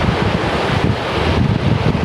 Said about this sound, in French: Le vent s'est brisé.